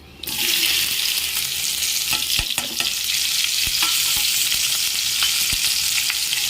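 Okra being stirred through hot oil in a pan, with a steady loud sizzle and frying hiss throughout and a few sharp spatula scrapes and knocks against the pan.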